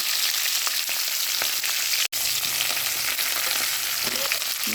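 Masala chickpeas with green chillies, curry leaves and coriander being mixed in a pan, a loud continuous close sizzle with occasional faint stirring clicks, one brief dropout midway.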